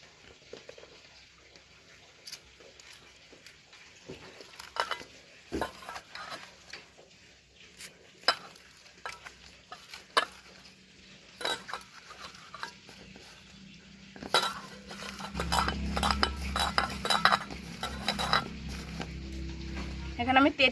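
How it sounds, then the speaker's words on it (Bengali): Green chillies being mixed with black salt in a bowl, with sporadic clinks and scrapes of utensil on the bowl, busier and louder toward the end, and a voice talking in between. "এবার বিট লবণটা দিয়ে লঙ্কাগুলোকে মেখে নেব।"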